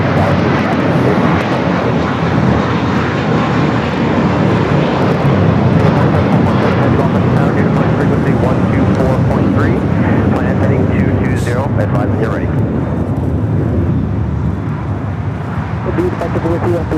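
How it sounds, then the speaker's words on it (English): American Airlines flight 9602 arriving at LAX from Sydney, a loud, steady broadband jet engine roar that holds throughout with a slight drop near the end, with voices talking over it. "this flight is coming in from Sydney"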